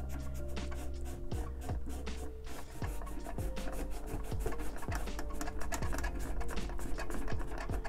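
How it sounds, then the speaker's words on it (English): A wet towel wipes fresh paint back off the edges of a wooden toolbox being distressed, giving close, steady rubbing and scuffing strokes over a constant low hum, with occasional light knocks. "I'm just taking this wet towel and I'm just wiping the paint back right away"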